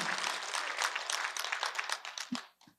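A church congregation applauds in a dense burst of many hands clapping that tapers off and stops after about two and a half seconds, with a few scattered claps at the end.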